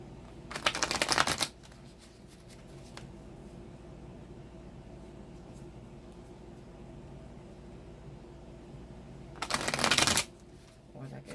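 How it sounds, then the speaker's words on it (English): Cards are riffle-shuffled twice, each a rapid fluttering burst lasting about a second, separated by a long stretch of quiet background hum. "I'm just going to give this another shuffle, because that was a lot of cards"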